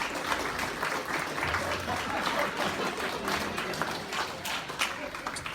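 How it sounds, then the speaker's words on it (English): An audience breaks into a big round of applause, with dense, sustained clapping filling every second and no break. "everyone will give you a big round of applause though for trying to be a part of it"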